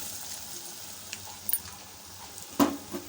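Ground urad dal goes into a hot tempering in a pan and is stirred, giving a steady, close sizzle with a few light scrapes and clinks of the spoon.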